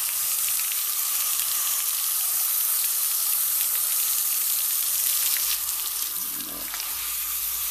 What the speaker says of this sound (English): Just kind of a quick rinse down on the dirty side.